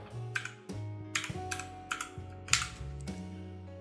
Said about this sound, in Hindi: देन इसी को डुप्लीकेट करेंगे और इस पे लिख देंगे हम फोगाट